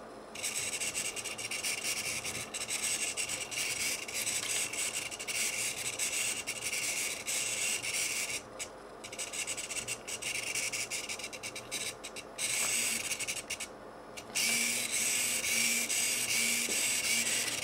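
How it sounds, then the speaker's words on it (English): Servo motor of a Repy1 robot module moving, a continuous close buzzy whirring grind with brief drop-outs as the motion pauses, no talking. "You see that now the servo is following my movement."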